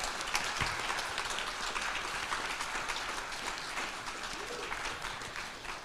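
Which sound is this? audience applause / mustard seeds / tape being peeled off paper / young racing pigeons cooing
audience applause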